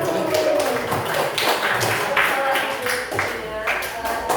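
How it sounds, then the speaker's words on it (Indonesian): Classroom applause after a student poster presentation on drug avoidance, dense overlapping hand claps running steadily throughout, fairly close and loud. "Ya, beri tepuk tangan."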